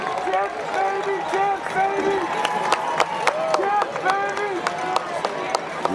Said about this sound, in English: You can hear in the background the applause.